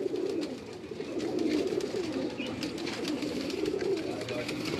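Pigeons come in to land near their loft, giving soft, low cooing that swells and fades under a steady outdoor background, with a faint voice at times.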